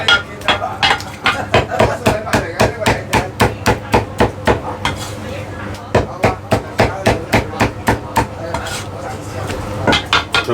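A cleaver chops through food on a board with rapid, regular, loud strikes, steady over about ten seconds, with a brief pause near the end, and a faint voice underneath.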